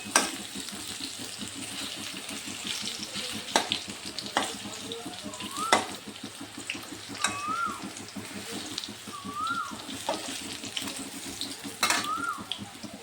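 Banana flower chops being turned as they fry in oil, a busy bubbling sizzle with occasional clicks of the utensil, and a bird chirping faintly in the distance.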